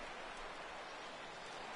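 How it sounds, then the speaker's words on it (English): Steady rainfall in the MLB 17 baseball video game, a soft even hiss of falling rain that stays faint and unchanging throughout, with no voices. "And Dan, when it comes to pitching in the rain, what changes?"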